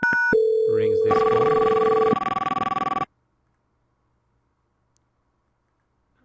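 Telephone ringback tones sound during a call test of a Cisco UCCX phone system, with steady electronic tones and a dial-tone-like hum for about three seconds, then silence.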